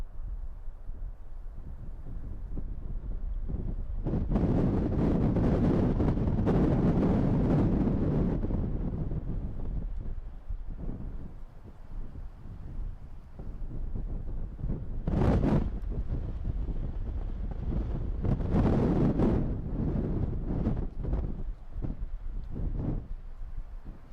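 Wind gusts across a microphone outdoors at night near an airbase, deep buffeting rumbles that swell and fade in several strong bursts, loud and close, with quieter lulls between.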